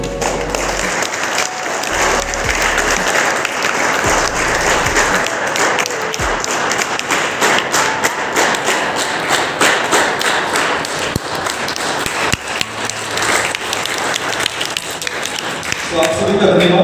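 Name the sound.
applause welcoming a priest at a church program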